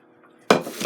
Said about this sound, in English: I'm going to get me a small pot, dump them in